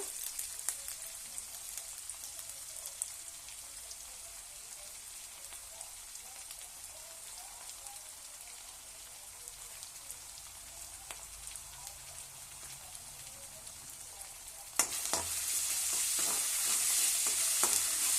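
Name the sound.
onions frying with ginger garlic paste for palak rice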